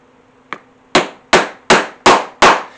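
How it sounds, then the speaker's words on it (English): A hammer strikes a punch through layers of leather and raccoon skin to make rivet holes: one light tap, then five sharp, evenly spaced blows, close and loud. "I'm going to hold that down as I punch my holes for my rivets on the sides here."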